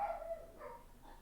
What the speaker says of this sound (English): Can you guys hear him barking right now?